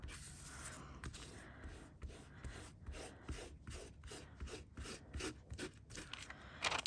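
A credit card rubs hard over a metal tape design in short, dry, scraping strokes repeated in quick succession, close by and fairly quiet.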